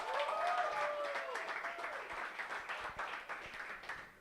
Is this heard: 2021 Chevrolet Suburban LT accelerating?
no